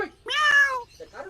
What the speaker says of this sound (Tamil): பூனை என்ன பூனை